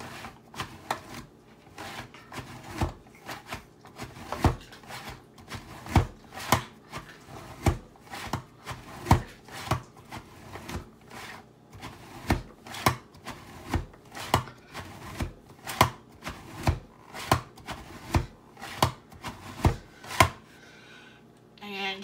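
A manual food chopper dicing food into its bowl, a long run of sharp, regular chopping clacks at a steady rhythm, close and fairly loud, stopping near the end.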